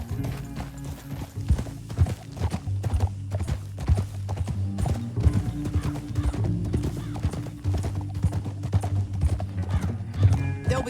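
A horse's hooves clip-clop in a steady galloping rhythm in the Red Dead Redemption 2 video game, each strike crisp and close, with the animal's breathing and tack mixed in throughout.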